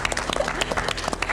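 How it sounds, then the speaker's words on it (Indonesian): Short round of audience applause at a business competition show, with distinct individual claps popping out over a crowd background and faint murmurs. "Tepuk tangan sekali lagi."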